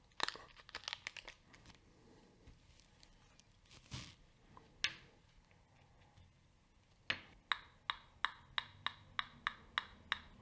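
Plastic-and-aluminum lid peeled off a Nespresso capsule, Torta Di Nocciole flavor: close crinkling and tearing with scattered crackles, then a run of about eight sharp, evenly spaced clicks toward the end, no talking.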